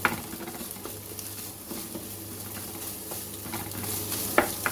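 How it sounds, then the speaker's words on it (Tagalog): Cooked fried rice being broken up and stirred in a wok (kawali), a soft continuous sizzle under repeated spatula scrapes and taps against the pan, close and steady with no talking. "Dito na natin siya dudurugin sa kawali."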